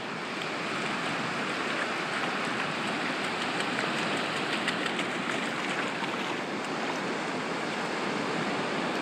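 Ocean waves on the beach at Destin, Florida, a constant broad washing roar of surf, steady and fairly loud with no clear individual breaks.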